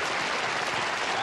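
Studio audience applause at a late-night television talk show, a dense, even wash of clapping, loud and continuous for a brief moment.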